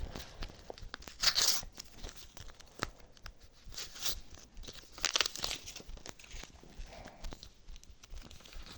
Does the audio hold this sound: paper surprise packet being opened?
yes